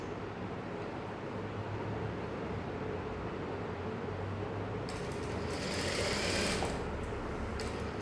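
A sewing machine stitches a folded-in saree edge with a steady, close mechanical whir that holds for the whole stretch and grows slightly busier toward the end, with no talking.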